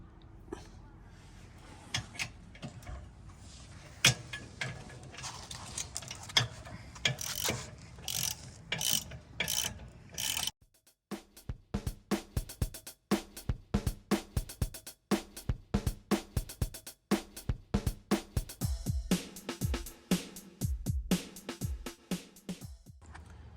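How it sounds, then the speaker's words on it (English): A 3/8 ratchet with a 9/16 long-neck socket tightens nuts on a trailer hitch docking station, giving rapid close clicking pawl sounds, first in dense runs, then a brief pause and sharper, quicker strokes. "This is a 3/8 ratchet with a 9/16 long neck socket. We're going to use this to tighten the nuts."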